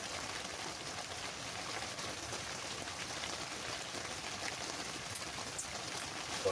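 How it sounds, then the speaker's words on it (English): Rain falls steadily outdoors, a dense, soft hiss of drops on surfaces, constant and fairly faint for the whole stretch with no voices. "basically doing nothing, just looking around and listening to the rain"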